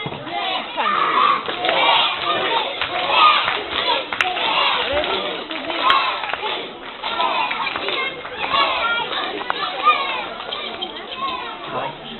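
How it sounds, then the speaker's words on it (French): A crowd of children at a ventriloquist magic show claps and shouts together for a shy puppet named Gertrude, a busy, lively din of cheering and applause that lasts throughout. "pour la faire venir, il faut applaudir et crier son nom"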